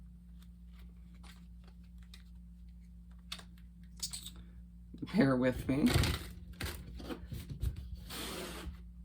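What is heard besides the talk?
shuffling Gilded Tarot Royale cards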